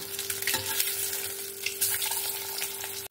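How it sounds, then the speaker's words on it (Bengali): Eggs fry in hot oil with a loud, crackling sizzle up close, punctuated by a few spatula scrapes and knocks as they are turned until reddish, with no speech. "ডিমগুলো এখানে আমি সুন্দর করে লাল লাল করে একদম ভেজে নিয়েছি।"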